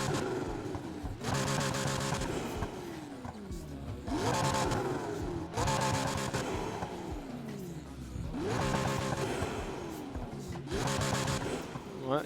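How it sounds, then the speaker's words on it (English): A McLaren P1 GTR's exhaust in Need for Speed Heat revs hard again and again, each rev climbing in pitch and then dropping away. The repeated pulls are loud and raspy, with no talking. "What about the exhaust sound?"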